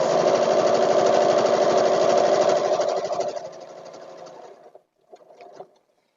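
A sewing machine stitches a nine-patch quilt block at a 2.6 stitch length, running loud and steady near at hand, then slowing and stopping, followed by a brief final burst of stitching.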